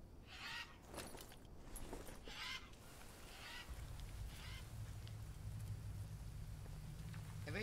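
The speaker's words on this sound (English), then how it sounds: "Every time I come in here, it acts like it's raining." Steady rain hisses in the Green Hell video game, a soft broadband wash carrying on throughout, with honking bird calls early on and a low rumble joining partway.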